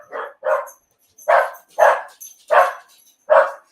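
A dog barks sharply six times in uneven bursts, close by and loud, with short pauses between barks and no talking over them.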